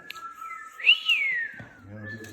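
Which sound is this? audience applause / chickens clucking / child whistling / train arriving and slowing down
child whistling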